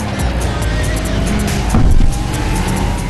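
Race cars in Gran Turismo 5 roar in a loud, continuous engine drone, swelling briefly as one car pushes closer before the steady pack noise carries on.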